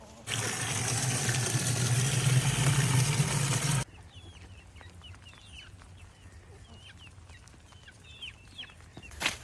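A loud rushing noise cuts off abruptly, leaving soft, scattered meat chicken clucks and chirps nearby on a homestead, with a louder cluck near the end.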